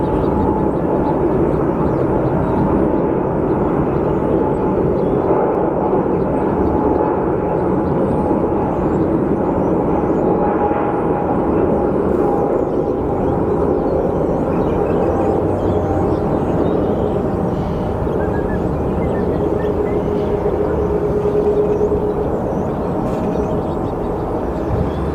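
A Spirit airliner at Sky Harbor Airport gives off a loud, steady jet roar that holds evenly for about 25 seconds, with no one speaking over it.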